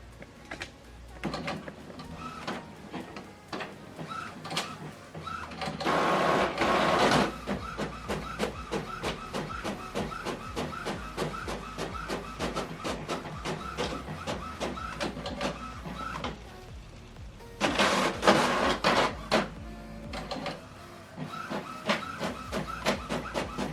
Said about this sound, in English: Now this document is going to print.